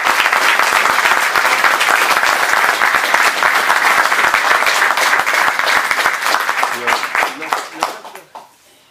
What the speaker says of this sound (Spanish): Es el mejor aplauso.